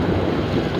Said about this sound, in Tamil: காற்று சூப்பராக வருது, கிளைமேட் சூப்பராக இருக்குது.